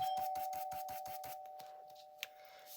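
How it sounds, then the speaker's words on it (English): Indoor doorbell rings with a rapid, even series of electric buzzes lasting over a second, then fades into a lingering tone with a few faint taps afterward. "That's the doorbell."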